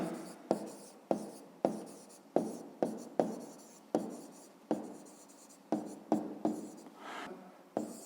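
Pen writing by hand on paper while working a fifth-grade maths exercise, with a steady series of scratchy strokes, each starting with a sharp onset and tapering off, close and fairly clear, and no voices.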